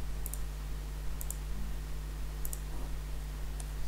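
Computer mouse clicking while working in Solidworks, four quick double-clicks spaced about a second apart, crisp and close over a steady electrical hum.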